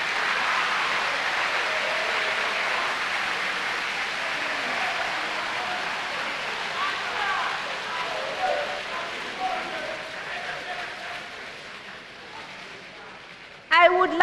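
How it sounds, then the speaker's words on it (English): An audience at a school quiz competition grand finale applauds the participating schools, a dense, sustained wash of clapping that fades gradually, with a burst of noise at the very end. "Let's clap for all schools who participated."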